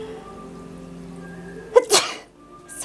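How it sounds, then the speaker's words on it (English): A single sharp sneeze bursts out close by after a quiet stretch of room tone, followed by a brief breathy sound. "I'm going to sneeze, hang on."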